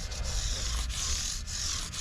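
Micro mesh pads rubbing and smoothing the fret ends on a guitar, a steady close abrasive scrubbing with a few short strokes and no talking.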